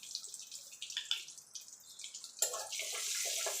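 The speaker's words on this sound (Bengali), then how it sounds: "ফোড়নটা একটুখানি ভাজা ভাজা করে নেব।" Black cumin and three green chillies crackle and sizzle in hot oil in a home kitchen, a steady close hiss with sharp spitting bursts that swell louder partway through.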